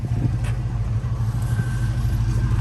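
A Chevrolet El Camino on the road with Hyper Spark ignition fitted, its engine giving a steady, loud low rumble that runs continuously throughout, with no talk over it.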